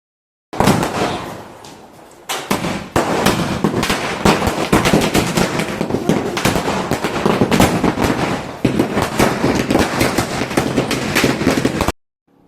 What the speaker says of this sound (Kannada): ಇವಾಗ ಪಟಾಕಿಯನ್ನು ಹಚ್ಚೋಣ ಬನ್ನಿ.